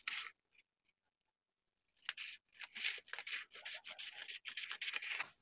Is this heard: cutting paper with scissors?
yes